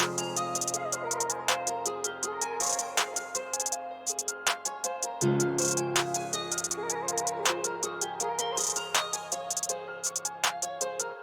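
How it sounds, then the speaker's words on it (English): Basic hi-hat pattern from a hi-hat MIDI in FL Studio ticks in rapid even subdivisions over a guitar loop and clap, crisp, close and continuous, with no talking. "And then the next thing I added was this really basic hi-hat pattern."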